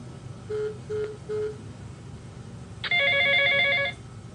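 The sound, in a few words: telephone ringing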